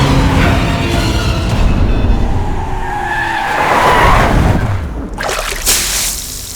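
A car's tires squeal and skid as it pulls away in a hurry, a loud, sustained screech over engine noise that fades and shifts near the end.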